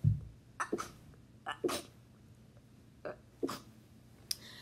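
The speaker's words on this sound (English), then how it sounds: "Oh my gosh, I'm gonna sneeze." A person sneezes and coughs in a quick series of sharp, close bursts, several separated by short pauses, with no talking.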